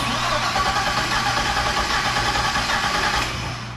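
A 2005 Chevy Corvette engine fitted with a new Kong Performance 2650 supercharger runs close up with a steady mechanical hum and whine at idle. It stays even throughout and eases off slightly at the very end, with no voices over it.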